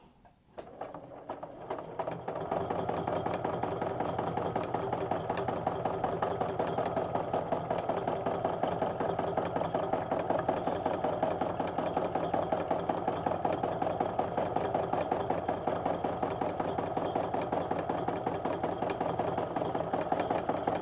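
A longarm quilting machine stitches a heart border, giving a steady, fast, rhythmic mechanical whir. It starts softly, then runs evenly and continuously at close range with no talking.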